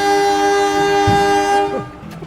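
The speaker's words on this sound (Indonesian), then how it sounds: "kereta api Sri Tanjung telah tiba di stasiun Pasuruan" Sri Tanjung passenger train arriving at Pasuruan station, a loud steady horn blast with rich harmonic tones that cuts off and fades into rumbling station noise.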